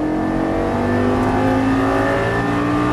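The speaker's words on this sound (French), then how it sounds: "Là, on commence à accélérer. Allez, vas-y, gaz." Lamborghini Gallardo accelerates hard on a track, its engine a loud, sustained roar with rising harmonic tones as the revs climb, heard from inside the car.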